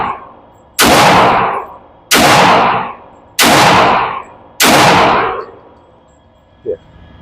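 Four loud .40 caliber pistol shots fired at targets on a range, sharp cracks spaced about a second apart, each with a short decaying tail, followed by a faint small click.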